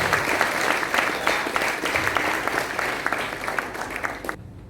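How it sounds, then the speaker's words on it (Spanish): A room full of people at a conference claps steadily for several seconds, the applause fading slightly before stopping abruptly. "démosle un fuerte aplauso a la concejal Gabriela Garzón."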